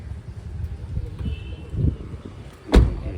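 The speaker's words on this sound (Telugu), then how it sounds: "డోర్ తీసి వేస్తే ఆ సౌండ్ చూడండి" A door on a used Maruti Suzuki Ertiga VDI SHVS shuts with one soft, low thud near the end, after quiet rustling and a smaller knock, with no talking.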